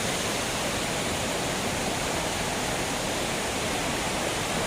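Water rushing through stones at a temple fish farm, a dense, loud, continuous wash of flowing water with no voices.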